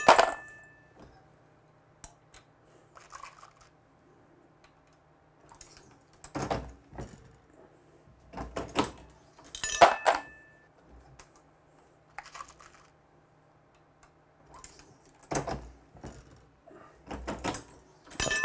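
An RCBS Pro Chucker 5 progressive reloading press cycling .223 Remington cartridges, with sharp metallic clacks and clunks from each handle stroke arriving in irregular bursts, separated by quiet gaps, close and solitary.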